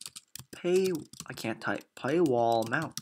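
Clicks of typing on a computer keyboard sit beneath a voice talking, with the keystrokes faint and partly masked by the speech.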